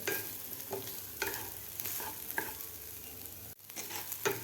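Broken wheat (dalia) dry roasts in a pan while being stirred, a soft grainy hiss with repeated spoon scrapes and light knocks at an uneven pace, close and fairly quiet.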